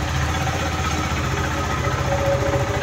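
A KTM 390 Adventure motorcycle brought back to life after 90 days idles with a loud, steady, close thrumming beat.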